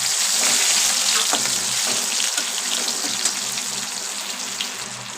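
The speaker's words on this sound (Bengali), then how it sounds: "এবার কালো জিরে দিয়ে দিলাম, কাঁচা লঙ্কা টমেটো কুচিটা দিয়ে দিলাম।" Black cumin, green chili and chopped tomato frying in a pan, a loud bright sizzle that gradually eases, with scattered pops and stirring scrapes, no talking.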